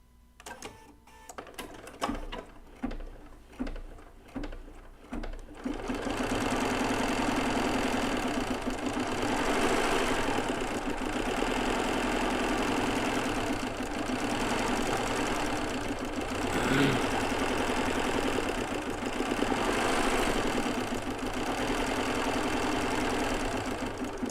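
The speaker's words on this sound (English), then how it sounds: "I'm going to do a tack down stitch." Bernina B990 embroidery machine running a tack down stitch on an in-the-hoop rag doll, starting with several short bursts and then whirring continuously and loudly without a break.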